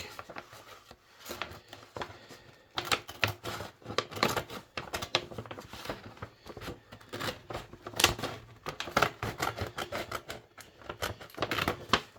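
Scissors snip through a paper carrier bag, cutting around its base in a run of crisp, irregular cuts and rustles, close and fairly quiet, with no talking.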